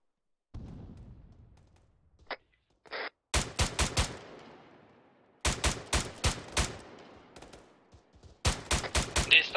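Bursts of automatic gunfire from the military video game Arma 3, several rapid volleys of sharp, loud shots separated by pauses, with a couple of brief isolated pops early on.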